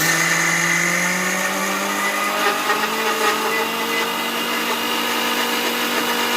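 An electric mixer grinder grinds soaked urad dal into batter for medu vada, giving a loud, steady motor whine that holds throughout without talk.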